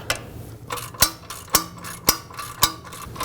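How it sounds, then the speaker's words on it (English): Breaker bar or long ratchet working loose the caliper bolts on a 2015-2020 GMC Yukon during a parking brake shoe job, giving four sharp, evenly spaced metallic clicks about half a second apart, close and alone. "you're going to want some sort of a breaker bar or long ratchet to break them free"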